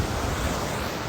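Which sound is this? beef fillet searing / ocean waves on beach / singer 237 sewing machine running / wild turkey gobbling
ocean waves on beach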